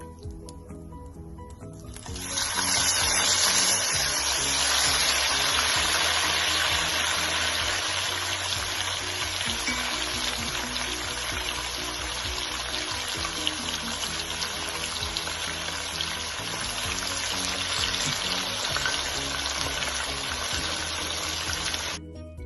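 Beef pieces frying in hot oil for a Ghanaian beef stew, a steady dense sizzle and crackle that swells loudly after a quieter start and holds constant throughout.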